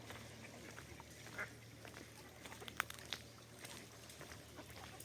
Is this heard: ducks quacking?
yes